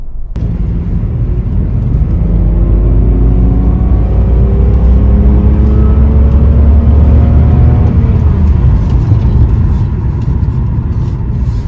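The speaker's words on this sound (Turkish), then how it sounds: "normal bir ara hızlanmada duyduğunuz ses bu oluyor." A BMW E46 320i engine climbs through the revs under normal acceleration, loud and close, with a rising tone over about eight seconds before it eases off.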